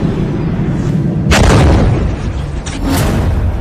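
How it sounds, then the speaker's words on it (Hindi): Iranian missiles launching, a loud deep roaring blast that swells suddenly and rumbles on, followed by a second burst of roar, heard alone at close range. "ईरान ने एक बार फिर मिसाइल लॉन्च करते हुए दिखाई है।"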